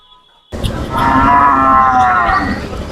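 Cattle at a busy livestock market in Jhenaidah, Bangladesh, bellowing in a loud, drawn-out moo that starts abruptly after a brief quiet moment and holds steady through the rest, over crowd noise.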